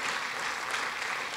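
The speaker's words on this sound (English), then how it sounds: "let me just lead another round of applause for Dean Pines, our incoming president of the university" Another round of applause rises from an audience at a university awards dinner for the incoming university president, a short, steady burst of many hands clapping with no speech.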